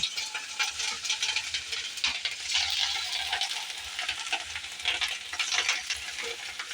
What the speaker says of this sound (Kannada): ಇಲ್ಲಿ ಗೋಬಿ ಮಂಚೂರಿ ಫ್ರೈ ಮಾಡ್ಕೊಲ ಹಾಕಿವ್ರಿ